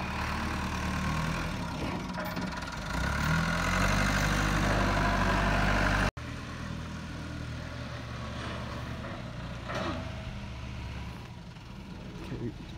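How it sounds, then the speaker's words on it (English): A heavy tractor engine rumbling steadily nearby, revving louder at first and then settling into a lower drone, with some talking mixed in. "Pushing with the tractor."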